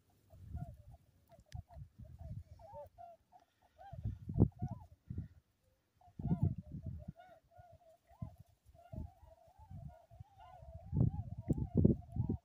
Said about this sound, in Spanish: aquí esta es una manada de gansos muy,